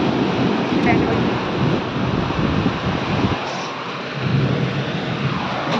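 Steady rain pours outside a home during a downpour, a dense continuous hiss with low rumbling wind-like wash, loud and unbroken throughout with no talk.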